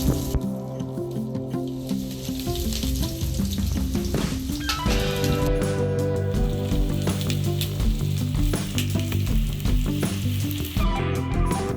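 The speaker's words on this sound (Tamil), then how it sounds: "இப்போ ஒரு கடாயில் தேவையான அளவு எண்ணெயை ஊற்றி கட் பண்ணி வச்சுருக்கிற வெங்காயத்தை போட்டு வதக்கிக்கலாம்." Chopped onions sautéing in oil in a kadai, a steady bright sizzle with stirring scrapes, while music plays prominently over the sizzling throughout.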